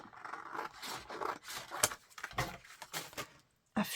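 Scissors snipping small squares from an A4 paper sheet, a close run of crisp rustling cuts and scrapes, a brief pause, then one more snip.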